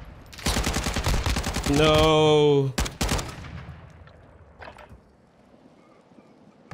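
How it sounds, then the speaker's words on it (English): RPK light machine gun from Warzone 2 firing a long, rapid, loud close-range burst, followed by a couple of shorter bursts and scattered distant shots as gameplay sounds fade; a brief spoken word is heard. "He using that RPK."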